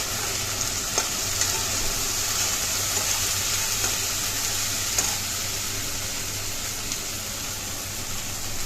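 Spice masala with chili powder frying in a pan, a steady dense sizzle and crackle throughout with occasional faint stirring clicks, close and moderately loud, no voices.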